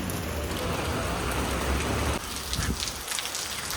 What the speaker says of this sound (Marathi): जाम खतरनाक पाऊस पडतोय